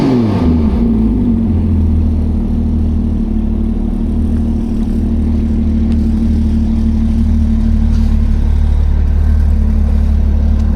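A Porsche GT4RS sits running outdoors in Chicago, its engine note loud and close, blipping up at the start and then settling into a sustained steady drone with no talk.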